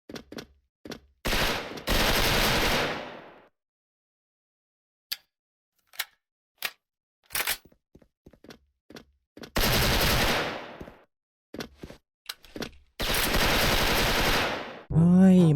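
M4A1 rifle fire in the video game Special Force comes in loud bursts of rapid automatic shots, separated by scattered single shots and clicks, close and punchy with silent gaps between.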